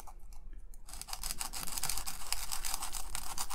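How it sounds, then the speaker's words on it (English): Sandpaper scrubs epoxy off a chip-on-board in quick, rhythmic back-and-forth strokes, a close, dry scratching that begins after a brief quieter moment. "So it's going to be as simple as grabbing a piece of sandpaper like so,"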